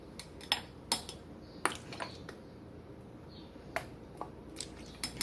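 A spoon clinks against a bowl in a short, irregular series of sharp taps while lemon juice is stirred into a homemade honey mustard sauce, close and fairly quiet.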